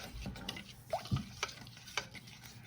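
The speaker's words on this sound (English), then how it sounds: "Okay, stir it up." A spoon stirs a cooking mixture in a bowl, with quiet scraping and soft wet knocks at an uneven pace, close but faint.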